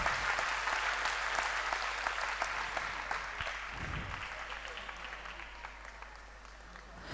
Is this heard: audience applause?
yes